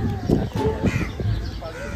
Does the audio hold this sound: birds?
yes